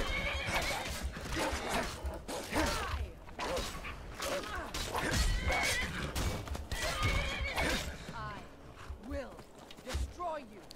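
Horse neighing in the Skyrim video game, several loud whinnies with hoof clip-clop over combat noise and bursts of clatter, with a voice talking over parts of it.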